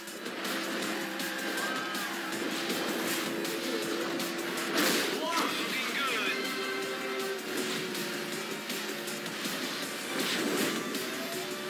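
Video game car engine droning steadily as the car drives across a beach in a Sonic & All Stars Racing Transformed race, with a brief tire squeal midway. Game music plays underneath throughout.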